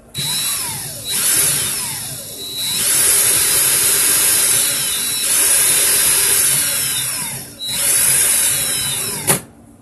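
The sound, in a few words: power drill pulling wire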